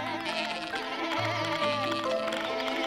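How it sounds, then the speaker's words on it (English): Sheep bleat repeatedly in wavering, nasal calls, fairly close and loud, with several animals overlapping and no talking. "Keep it down, sheep."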